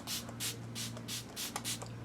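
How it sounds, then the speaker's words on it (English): Several short hissing sprays of a makeup setting spray mist bottle, about six bursts in quick irregular succession, close up over a low steady hum. "Now I'm going to give me a spray."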